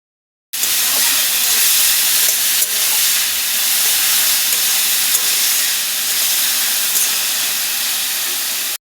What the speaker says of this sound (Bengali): প্রথমেই কড়াইতে তেল দিয়ে আমরা একে একে সব সবজিগুলোকে ভেজে নেব।